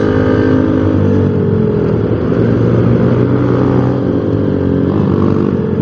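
Loud, steady motorcycle engine noise from close range on a night road, with a continuous droning rumble and faint shifts as other motorcycles are overtaken.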